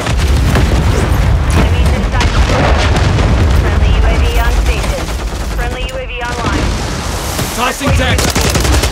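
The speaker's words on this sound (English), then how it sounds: "Friendly cruise missile deployed." Cruise missile blasts and dense gunfire in Modern Warfare III, loud booms and rapid shots packed together continuously with game voice callouts over the top.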